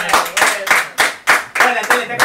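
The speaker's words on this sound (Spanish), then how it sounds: "Fuerte aplauso para Peláez, carajo." An audience at a Spanish-language live talk show gives loud, close applause, heard as a series of rhythmic clapping bursts that rise and fall about every half second.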